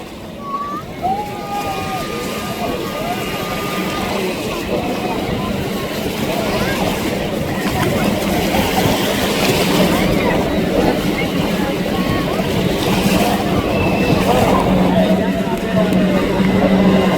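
Racing boats at a boat race on the water at Mathagal, Jaffna, give off a steady, continuous engine drone that holds throughout, with people talking and commentating over it.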